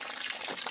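Water gushing from a pipe for irrigating a hill-village field in Uttarakhand, a steady close hissing rush of flow over a very brief moment, with no talk.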